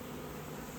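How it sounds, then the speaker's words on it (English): Honeybees fan Nasanov pheromone at a Guildford beehive, giving a close, continuous droning buzz with a steady low hum and no break. "there are bees with their bottoms in the air. What they're doing is they're fanning a pheromone into the air to call their sisters."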